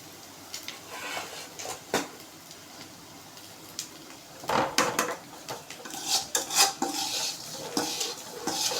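Crisp frying ingredients for tomato rasam are stirred in a pan with a spoon, giving scraping, rustling strokes that start sparse and quiet and then grow busier and louder, with no talk.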